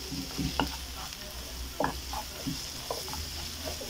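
Onions and kefta fry in a pan with a soft, steady sizzle, broken by quiet scraping and clinking as the mixture is stirred at close range.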